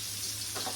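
Peeled potatoes fry with turmeric and salt in a hot pan, giving a steady close sizzle with a brief stirring swell near the end.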